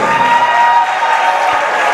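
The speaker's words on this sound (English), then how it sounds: "Big cheer for him, given what happened last game" A crowd in a high school basketball gym cheers and applauds for a player, a dense steady roar that holds for two seconds.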